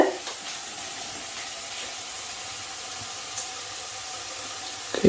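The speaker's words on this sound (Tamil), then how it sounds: "ஸோ இப்போ இதை வந்துட்டு வதங்கிறதுக்குள்ள நம்ம இங்கே வந்து தாளிச்சிக்கலாம்" Spices are tempered in hot rapeseed oil for a kootu. A steady sizzling hiss carries throughout, with a few louder spits and pops at the start and end.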